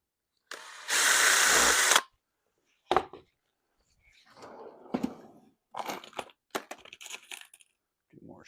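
Close, loud bursts of a power drill boring a hole into a wooden dresser under construction, with a long run first, then shorter bursts, crunching wood and handling clatter between them.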